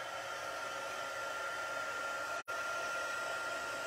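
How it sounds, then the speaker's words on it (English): A crafting heat tool blows steadily on vellum and an acetate window sheet, giving a close, constant whooshing hum with one abrupt momentary cut-out partway through. "I'm going to hit this just quickly with the heat tool."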